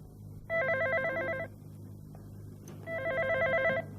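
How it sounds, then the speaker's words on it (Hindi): A telephone rings in two long electronic bursts separated by a pause of over a second, loud and close in a quiet room with a low background hum. "देखो फोन बज रहा है"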